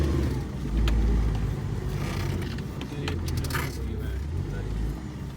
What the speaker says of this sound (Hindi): तो अपनी गाड़ी भी देखते हैं निकलती है कि नहीं।